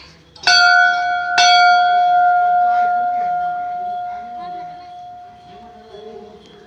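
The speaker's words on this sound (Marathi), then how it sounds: "वाजव घंटी" Two loud strikes of a temple bell ring out close by, the second following about a second later, its clear tone lingering and slowly fading.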